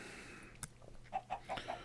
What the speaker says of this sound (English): we have some chickens over here